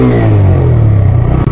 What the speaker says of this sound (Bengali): ভয়ঙ্কর লেভেলের সাউন্ড বাইকের।